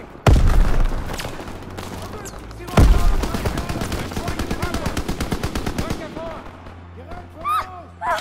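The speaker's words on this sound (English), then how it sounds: "Gunfire this way. Too risky." World War II combat gunfire in Call of Duty: WWII opens with two heavy booming shots, followed by a long rapid machine-gun burst. Voices come in near the end.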